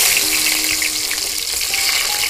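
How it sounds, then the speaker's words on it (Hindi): Carrot and capsicum pieces fry in a hot pan in a village kitchen, giving a loud, dense, continuous sizzle heard close up with no voices. "गाजर कैप्सिकम को थोड़ा सा फ्राई करेंगे।"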